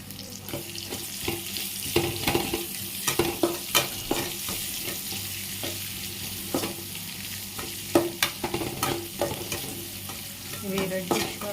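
Sliced onion frying and stirred in a pan as the base for mutton curry, a steady sizzle broken by repeated clanks and scrapes of a spoon against the pan, close and fairly loud with no talking.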